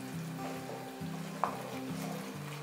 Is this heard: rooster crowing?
no